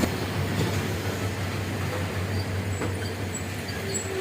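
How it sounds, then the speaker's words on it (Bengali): A train from Chattogram rolls into a station on the Dhaka to Mymensingh line, giving a steady, loud low rumble with a sustained hum and faint high squeals throughout. "একটা ট্রেন আসছে"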